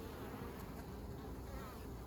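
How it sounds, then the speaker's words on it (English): Honeybees buzz at a backyard beehive, heard up close as a dense, steady, continuous drone with no pauses and no voices. "here I am, taking a very close look at the bees"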